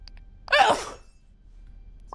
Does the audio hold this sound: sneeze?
yes